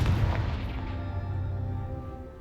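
A Confringo fire spell explodes in the video game Hogwarts Legacy, a single heavy boom that hits at once and then rolls away in a long fading rumble.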